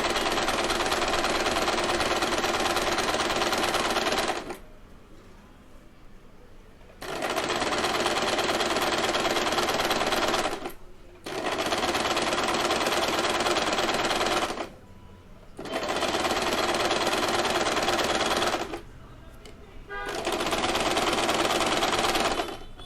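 A sewing machine stitches a small cotton summer dress in five long, loud continuous runs, each separated by brief quiet gaps.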